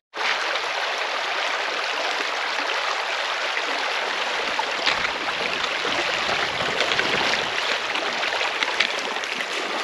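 River rushing steadily over rocks, a dense continuous broadband wash that stays loud and close and barely varies throughout, with no talk.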